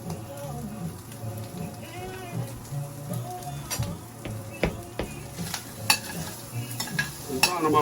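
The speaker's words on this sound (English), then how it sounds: "Brown them up a little bit, you know, get some of the fat cooked off into it." Food browning in a hot skillet for a mushroom barley soup, fat crackling and sizzling steadily up close, with frequent scraping and stirring clicks of a utensil against the pan.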